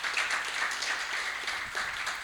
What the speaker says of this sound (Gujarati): તો એકવાર શૈલેષભાઈ માટે તાળીઓ.